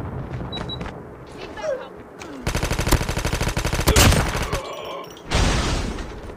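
Rapid automatic gunfire bursts and sharp single shots ring out in Call of Duty Mobile, a fast rattling volley in the middle followed by a heavier boom, with game sounds and a voice heard in between.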